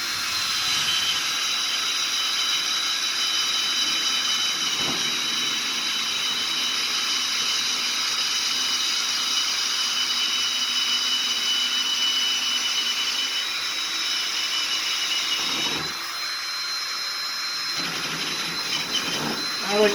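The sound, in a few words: power drill boring a center hole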